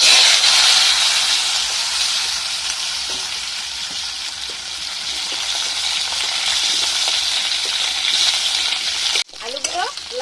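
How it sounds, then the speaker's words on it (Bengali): Potatoes fry in hot mustard oil in a wok, a loud, continuous sizzling hiss that runs steadily and then breaks off near the end with a brief clatter. "আলুগুলো লাল লাল করে ভেজে নিচ্ছি।"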